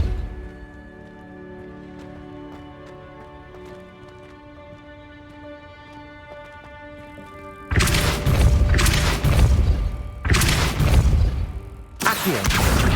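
Depulso spell blasts in Hogwarts Legacy: after several seconds of calm tonal game music, three loud, booming bursts of force hit in quick succession, each a broad crashing impact.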